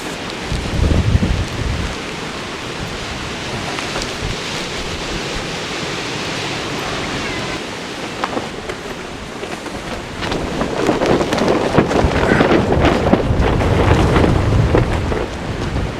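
Strong wind during an ice and wind storm roars steadily and loudly, buffeting the microphone in gusts that swell toward the end, with no voices.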